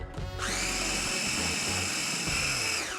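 Food processor whirring at high speed as it blends lemon zest with granulated sugar, a steady loud motor whine with a bright tonal pitch that starts abruptly and runs continuously close by.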